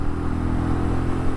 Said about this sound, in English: I'm revving it out now, well, attempting to.